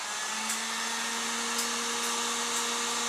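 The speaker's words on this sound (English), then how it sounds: "let's go ahead and fire up our heat gun" A heat gun blows hot air onto an acrylic tube, giving a steady, loud whirring roar with a constant tonal hum and no break throughout.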